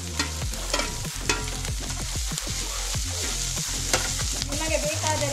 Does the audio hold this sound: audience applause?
no